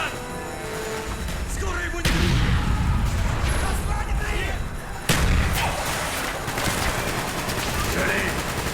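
Grenade blast and rattling gunfire from the Call of Duty Black Ops campaign, loud and continuous with sharp booms near the two- and five-second marks, while voices shout over the combat.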